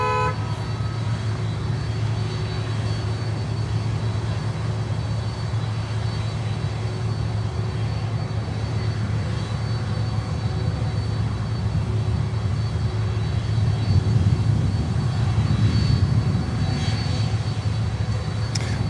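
Aircraft engines drone at the Miami airport cargo area, a continuous broad roar holding steady the whole time and swelling slightly toward the end, with no voices.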